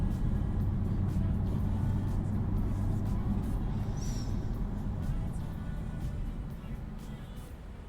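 Steady low engine rumble of a car driving, gradually easing and quieting toward the end as it slows.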